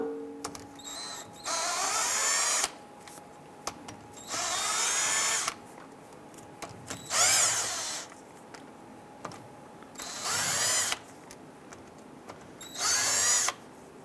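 Power tool in repeated bursts removing lower axle bolts on a 2002-2008 Dodge Ram 1500 rear axle, five or six loud whirring runs of a couple of seconds each, separated by quiet gaps, close up with no talk.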